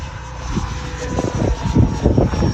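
Freewing Hornet RC jet in Blue Angels livery flying past on a maiden flight, a steady whooshing electric ducted-fan roar that swells and holds at moderate distance, with wind noise throughout and no talking.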